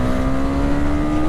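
A KTM Duke 250 BS4 motorcycle engine runs hard in a loud, steady, buzzing drone close by, with no speech over it.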